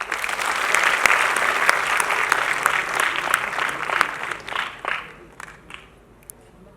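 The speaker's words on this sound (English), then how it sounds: "So I think you guys can clap for yourself." Audience applauding at a festival talk event, loud sustained clapping from a large crowd that fades out over the last couple of seconds.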